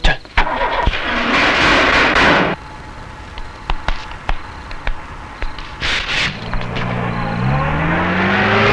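Car engine starting and revving before being parked in a garage, a loud burst of engine noise followed by quieter thumps and clicks, then rising tonal sounds near the end.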